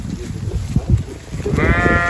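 A large goat on a Marathi shepherd's farm bleats nearby, a short wavering call near the end, following low thumps and rustling close at hand.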